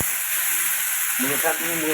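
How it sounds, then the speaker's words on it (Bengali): Radish greens, parboiled first, frying in a pan with mustard and garlic, giving a steady close sizzle; a voice joins partway through. "মূলো শাক ভাজা করে নিচ্ছি"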